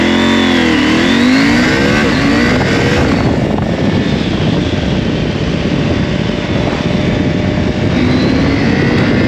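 Husqvarna Norden 901 motorcycle pulling hard on a highway, its engine rising in pitch under acceleration, loud and continuous with heavy wind rush throughout.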